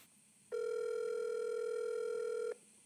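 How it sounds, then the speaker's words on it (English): A single long telephone ringback tone on a call waiting to be answered, one steady electronic beep of about two seconds, loud and clean against faint background hiss. "Come on, Christian. Answer the phone"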